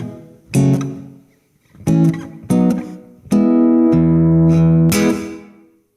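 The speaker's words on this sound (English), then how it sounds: "we have a slightly shorter reverb on tap here." Acoustic guitar through a Udo Roesner Da Capo 75 amplifier set to a shorter reverb, playing short strummed chords and one longer held chord that fade fairly quickly, close and clear with no voices.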